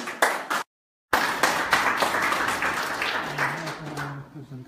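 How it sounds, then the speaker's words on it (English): Audience applause at the close of a FutureNet presentation in Birmingham, a dense crowd clapping that breaks briefly into silence, then resumes steadily and fades, with voices murmuring beneath it toward the end. "please give an round of applause to you"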